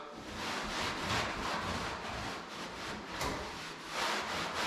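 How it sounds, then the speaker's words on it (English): Soft, quiet rubbing of a clean microfiber cloth wiping patina sauce across the body of a 1954 Chevy, in gentle repeated strokes close to the microphone. "we're gonna take a new clean microfiber and we're just gonna wipe that sheen down"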